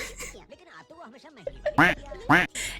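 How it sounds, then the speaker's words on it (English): A voice talks at first, then a livestream duck quack sound effect fires twice in quick succession, both quacks loud and close. "Quack sound effect."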